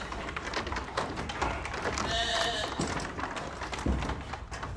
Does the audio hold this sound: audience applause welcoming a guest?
no